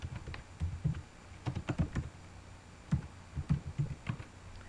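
Close keystrokes on a computer keyboard as a name is typed into a cell of an Excel 2007 spreadsheet, coming in irregular quick bursts of clicks with short pauses between, heard alone.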